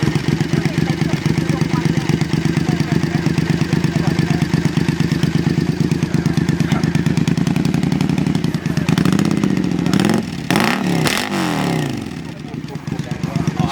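A military motorbike with straight pipes in place of its silencers and no rev limiter putters loudly at close range, then revs up in a few sharp bursts before settling back, with voices talking alongside.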